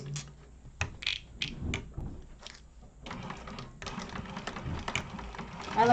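A sewing machine stitches a quarter-inch seam on a zipper pouch in short irregular bursts of mechanical clatter, then runs in a longer continuous stretch, with light handling noises between.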